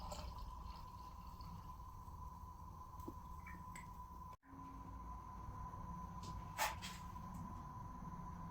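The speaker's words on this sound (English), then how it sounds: "500 grams of cherry broth pour into a plastic container." A steady, faint stream of cherry broth pouring into a plastic container, with a constant low rush and a brief break partway through.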